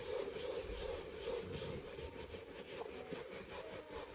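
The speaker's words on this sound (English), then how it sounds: "we're gonna grab the soft brush because this is a delicate brush and it's good for the uppers" Soft delicate brush scrubbing the suede uppers of New Balance shoes, a faint, steady rhythmic rasping of repeated strokes heard alone.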